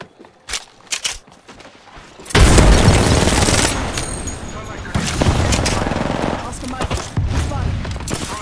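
In an Apex Legends match, a frag grenade blasts with a loud, sudden boom. Sustained heavy gunfire follows for several seconds, with bursts swelling and easing, and voices are faintly present.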